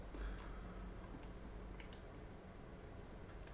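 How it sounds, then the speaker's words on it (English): Mouse clicks at a computer desk during a live trading session: a few faint, sharp ticks spaced well apart over a steady low room hum. "you guys hear the clicking of my mouse"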